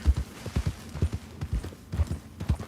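A horse gallops in Red Dead Redemption 2, its hooves drumming in a steady, rapid rhythm of close, heavy thuds over a soft rushing background.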